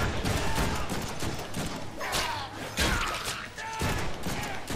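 Dense, loud gunshots and rapid bursts of fire in the Deadpool video game, continuous and close, with impacts and clatter mixed in and no talking.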